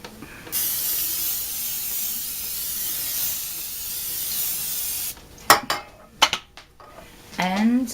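A sustained hiss of olive oil cooking spray onto a grill for several seconds, followed by a few clattering metal clanks of cookware.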